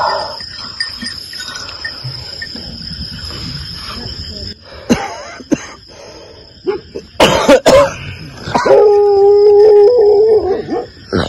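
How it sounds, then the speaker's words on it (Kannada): Dogs bark and howl in the night around 3 a.m. at a shepherds' camp in the cold, with a long drawn-out howl near the end, scattered sharp barks and coughs, and a steady chirping of crickets behind. "ಎಲ್ಲ ಬೊಗಳ್ತಾ ಇದ್ದಾವೆ."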